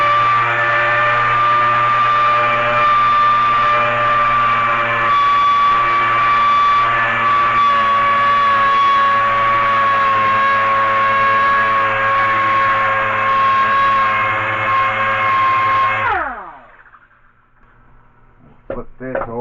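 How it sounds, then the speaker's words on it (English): A DA sander cleans burrs from new boat frame rails with a loud, steady high-pitched whine that holds for a long stretch. It then winds down abruptly, leaving only faint handling clatter. "I'm going to quickly take the DA sander"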